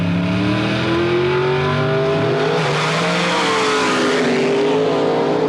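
Mountain Motor drag racing cars launching side by side at the 1984 Nationals at Budds Creek, Maryland, loud engines screaming and rising in pitch as they pull away, continuous and close.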